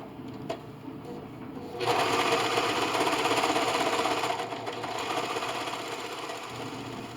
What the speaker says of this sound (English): I like to go ahead and just run a serge all the way around the rim of this liner.